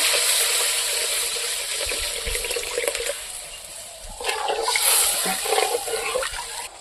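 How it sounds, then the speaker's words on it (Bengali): Water mixed with mustard paste is poured into a simmering rohu fish kalia, a steady splashing pour that swells again in a second louder surge, close and without talk. "ওই জলটা দিয়ে দিলাম"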